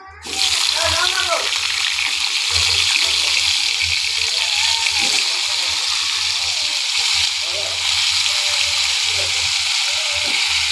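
Drumstick, potato and pumpkin pieces go into hot oil in a kadai tempered with dried red chillies and nigella seeds, giving a loud, steady sizzle that runs unbroken for several seconds, with a faint voice underneath.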